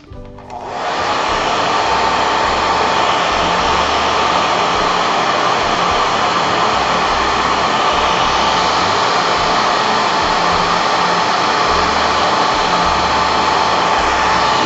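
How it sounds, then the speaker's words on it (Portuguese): A hair dryer switches on and runs at a loud, steady roar without a break, close by, drying crackle-finish craft paint. "aí eu posso vir e acelerar com o secador"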